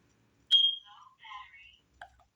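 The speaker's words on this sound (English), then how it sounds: "My smoke detector's battery is low, and it's not only talking, it doesn't just chirp anymore, it actually talks to you" A smoke detector with a low battery gives a sharp, high beep and then a short, faint electronic voice warning. A second, quieter blip follows. The device is close by in a quiet room.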